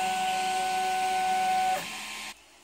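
A Prusa i3 MK2S 3D printer runs with a steady motor whine and hum that shifts pitch near the end and then drops to a quieter hum, with no voices.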